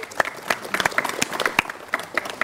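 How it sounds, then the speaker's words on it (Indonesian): An audience at a pre-dawn Ramadan gathering in a hotel claps for a speaker, a lively patter of many hands with distinct individual claps standing out, lasting a couple of seconds. "kita berikan tepuk tangan"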